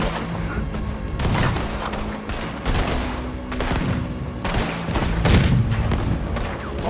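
Rapid bursts of video game gunfire crackle and boom almost continuously, dense volleys and heavier thuds layered over a battle soundscape, with voices faintly mixed underneath.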